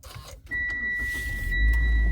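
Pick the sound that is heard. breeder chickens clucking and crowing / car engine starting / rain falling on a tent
car engine starting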